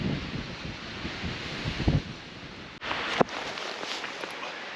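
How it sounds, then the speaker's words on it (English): Strong, cold wind gusting across an open outdoor space on a Mount Mansfield hiking trail in Vermont, buffeting the microphone with a constant roar and a couple of sharper bumps. "It is windy and cold."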